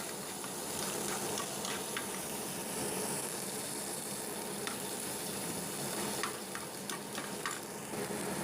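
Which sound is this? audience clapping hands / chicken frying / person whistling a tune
chicken frying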